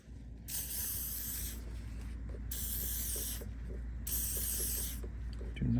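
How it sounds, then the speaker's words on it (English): WD-40 lubricant sprays onto a rear differential bushing of a BMW F10 in three loud hissing bursts, each lasting about a second, separated by brief pauses filled with faint handling clicks. "We'll just add a more WD-40. Make sure we are very generous."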